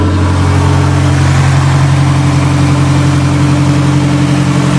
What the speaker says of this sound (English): It's got a very, very low restriction exhaust, so it's running on high idle,